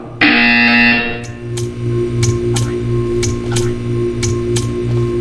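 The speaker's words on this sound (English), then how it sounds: "You will hear a buzzer." A loud buzzer in the video game Portal 2 blares for about a second, then a steady electronic hum continues with a regular series of sharp ticking clicks.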